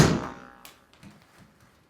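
A single sharp thunk of a golf driver striking a ball on a resort course, followed by quieter faint knocks as the sound fades out.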